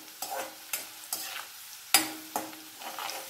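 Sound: ginger and garlic frying in oil for pickle

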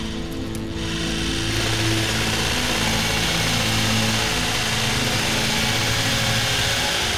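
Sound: drilling machine running

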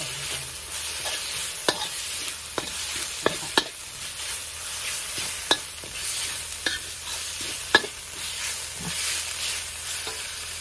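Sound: stir-frying chili and minced pork in a pan

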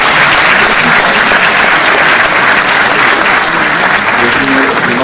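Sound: audience applause for school band winners

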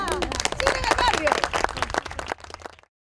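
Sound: applause for Cine en el Barrio

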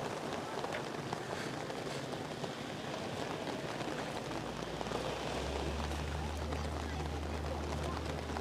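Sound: rain during a storm on the coast

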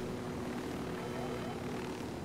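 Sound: helicopter flying in the video game Ghost Recon Wildlands

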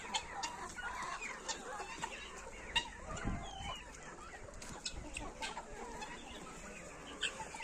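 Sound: chickens clucking

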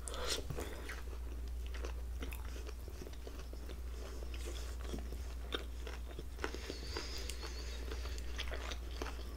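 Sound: chewing sushi uramaki with fish roe and shrimp

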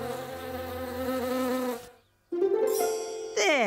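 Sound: wasps buzzing

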